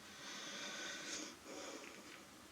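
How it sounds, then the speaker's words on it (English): A dog snoring softly nearby, with a few raspy, wheezy breaths drawn in slow succession against a quiet room. "So if you hear snoring, that is Viola."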